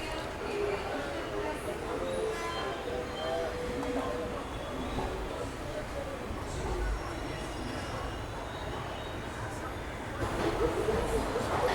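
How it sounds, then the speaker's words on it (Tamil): Express train pulling out of a platform on the Jolarpettai to Erode line after a ten-minute delay, a steady low rumble of rolling wagons that swells near the end. "10 நிமிஷம் டிலேயோட வண்டி வந்து டிபேட் ஆகுது"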